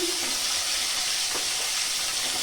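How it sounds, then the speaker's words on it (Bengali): Mixed vegetables for shukto (pointed gourd, sweet potato, potato, flat beans) fry in a pan with a steady, close broadband sizzle throughout, with a brief stir partway. "ফোড়নটা সুন্দর গন্ধ আসলে এবার সবজিগুলো দিয়ে ভেজে নেব"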